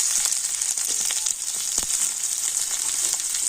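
Chopped onion and whole cumin seeds sizzle steadily in hot mustard oil in a pan, a loud, close, continuous bright crackle with no voices.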